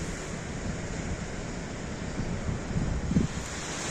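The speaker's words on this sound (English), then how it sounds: "Some beautiful waves there." Ocean waves break on the Causeway Coast near Ballintoy, a steady roar of surf mixed with wind noise on the microphone, with a slightly louder surge toward the end and no talking.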